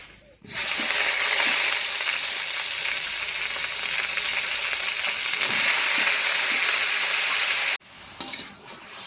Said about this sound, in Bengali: শুধু সবজিগুলো একটু ভেজে নেবো কাঁচা গন্ধটা চলে যাওয়ার জন্য